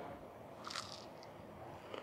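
A marshmallow frozen in liquid nitrogen is bitten into with a brittle, close crunch, a short crackling burst and then a second smaller crunch, over a steady hissing background.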